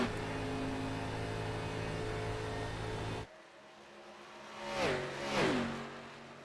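Simulated stock cars in an ARCA Series race at Texas drone with a steady engine hum, then quieter engines rise and fall as cars sweep past one after another.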